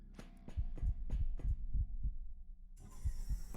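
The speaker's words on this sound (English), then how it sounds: "Hopefully nobody's too uncomfortable with the constant heartbeat noises." Steady heartbeat sound effect from the video game Quasimorph, a run of repeated low double thumps in a regular rhythm, joined near the end by a hissing ambient noise.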